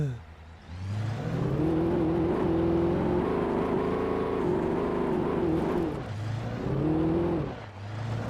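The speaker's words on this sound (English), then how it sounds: "This car just purring at me" A car engine in the video game Alan Wake hums steadily and loudly, its pitch rising and holding through the middle before dipping and climbing again, a continuous close drone with no talking over it.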